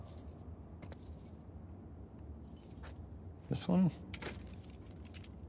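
Keys jangle in a short, loud burst near the middle as a character tries a set of keys in The Last of Us Part II, set over a steady low background hum, with a brief spoken question nearby.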